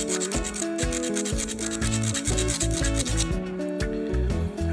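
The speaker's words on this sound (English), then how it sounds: "I can see which way the file's going." A hand file rasps in quick, repeated back-and-forth strokes across the steel blade of a pair of flower clippers being sharpened, close and loud, with a steady scraping rhythm and no talk.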